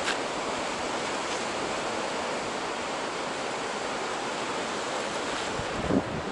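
Ocean waves wash steadily against a rocky shore in a continuous broadband rush, with wind buffeting the microphone and no voices.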